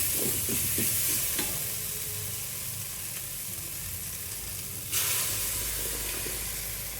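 Tomatoes sautéing in a pan as they are stirred, a dense hiss and sizzle with scraping strokes early on and a fresh burst of sizzle partway through.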